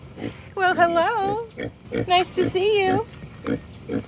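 A pig on an island in Laos grunts and oinks close by while a person talks over it in a friendly voice, with the animal's squealing calls rising and falling in short bursts between the words.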